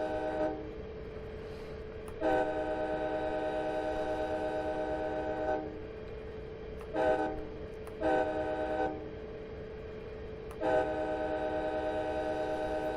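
Simulated train running in Train Simulator as it nears the end of a line short of Miami Airport, a steady rumbling drive with a sustained horn-like tone and several brief louder surges, near and without talk.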